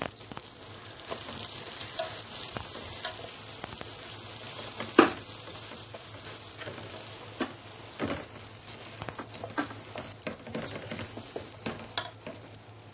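Rice with vermicelli frying in a pot for Egyptian koshari gives a faint, steady sizzle with occasional stirring scrapes and clicks, quiet and close.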